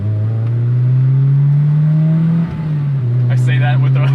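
A modified 2005 Honda S2000 AP2 engine revs up close and loud, pitch climbing steadily before a brief dip as a rough shift into second gear lands, then pulling again with a voice over the engine.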